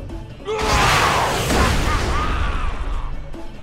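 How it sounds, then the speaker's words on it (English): A rocket launcher blast in the video game Tales from the Borderlands bursts loudly with a heavy boom and crashing debris that rumbles on for a few seconds, followed by a brief voice. "Very loud. Rocket launcher."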